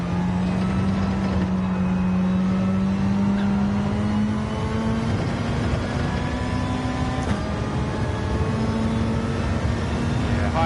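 A racing car engine in Gran Turismo 7 drones loudly and steadily at high revs, its pitch climbing gradually through the gears in a long continuous pull, with no talking.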